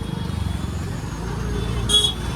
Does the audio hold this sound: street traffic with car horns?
yes